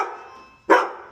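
A dog gives a single loud, sharp bark close by, breaking a quieter stretch of low background noise outdoors among chickens.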